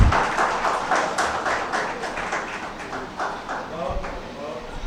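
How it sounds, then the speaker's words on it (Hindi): An audience at an Urdu mushaira poetry gathering held for an Independence Day celebration in Siwan claps steadily. The applause is dense and continuous, with voices mixed in. "जोरदार तालियां।"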